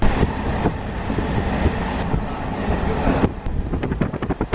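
Loud, continuous rumble and clatter of a suburban train heard from inside on the line from Bangalore city toward the airport, with wind rushing and rhythmic rail clicks toward the end.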